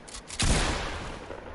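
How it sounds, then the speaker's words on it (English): Video game gunfire: a sharp, loud burst of rapid shots that cuts in abruptly, followed by a decaying rumble and crackle, with no talking. "How is he shooting me?"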